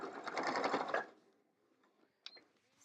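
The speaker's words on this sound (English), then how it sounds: "start again at the top and back stitch to secure that corner" A sewing machine back-stitches a quilt binding strip at a corner, giving a brief dense burst of rapid stitching that stops after about a second and is followed by quiet handling and a small click.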